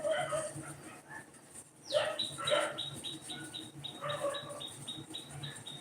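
Dogs bark in a few short bursts at some distance, with high bird chirps repeating and steady outdoor background noise.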